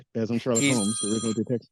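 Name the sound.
phone ringing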